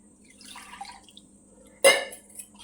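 Water poured into a sugarcane juice mixture in a kitchen, with a few faint drips and clinks, then a single short close splash and a little trickle afterward.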